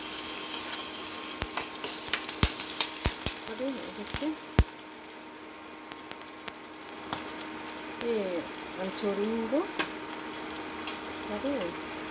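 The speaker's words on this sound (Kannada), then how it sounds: "ಈಗ ಇದಕ್ಕೊಂಚೂರು ತುಪ್ಪ ಹಾಕಿದ್ದೀನಿ ನಾನು ಮೆಣಸಿನ್ಕಾಯಿ ಒಂಚೂರು ಬಾಡಿಸ್ತೀನಿ" Green chillies frying in ghee, a low steady sizzle with scattered sharp clicks and pops, while a person talks intermittently over it.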